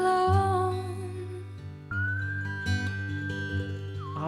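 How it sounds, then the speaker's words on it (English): A clear, sustained whistled melody in a song floats over a low, steady acoustic backing, holding long notes with a slight bend near the end. "Oh, the whistle."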